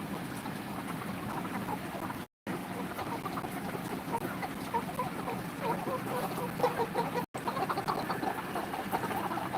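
Chickens, panting in hot weather, cluck and murmur softly throughout against a steady background hum of a running fan, with a couple of brief dropouts.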